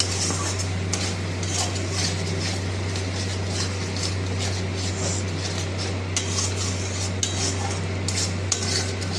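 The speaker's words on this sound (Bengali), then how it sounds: "এবার মশলাটা কষিয়ে নিচ্ছি।" A spice paste of cumin powder and sugar is stirred and sautéed in a pan for a goat-fat jackfruit curry: steady close scraping and clinking of a utensil against metal, with a faint sizzle underneath and no talking.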